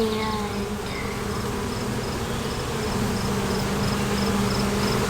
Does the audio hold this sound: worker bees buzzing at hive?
yes